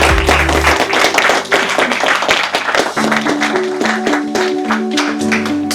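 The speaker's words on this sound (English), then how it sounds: "let's give a big round of applause to my panelists this evening" An evening audience applauds the panelists with dense, sustained clapping. A steady musical tone plays underneath.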